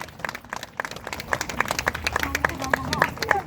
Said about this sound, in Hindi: तालियां बजाने में कंजूसी मत कीजिए